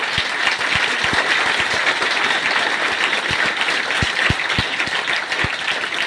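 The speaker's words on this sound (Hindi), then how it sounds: "तालियां बजाना अच्छे से बजाओ यार" Audience applause at a talk by an MYL Networks speaker, steady dense clapping throughout with a few sharp claps standing out near the front.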